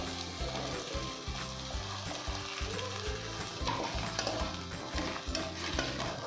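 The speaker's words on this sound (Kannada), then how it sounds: "ಇದರಲ್ಲಿ 2 ಪೊಟ್ಯಾಟೊ ಹೀಗೆ ಸಣ್ಣ ಕಟ್ ಮಾಡ್ಕೊಂಡು ಹಾಕ್ಕೋಬೇಕು" Small-cut potatoes being stirred into softening onions in a hot pan, continuous frying sizzle with spatula scrapes and clatter, close and fairly loud with no talk.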